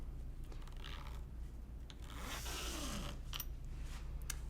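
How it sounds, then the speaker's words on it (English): A zipper on a cross-stitch fabric bag is pulled open, with short quiet scraping rasps over a low background hum and no talk. "I'm going to open my zipper."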